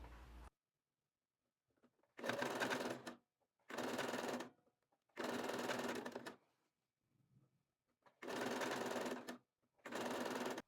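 A sewing machine stitches bias binding onto a dish towel in five short, rapid bursts of whirring and clattering, separated by quiet pauses, close and clear.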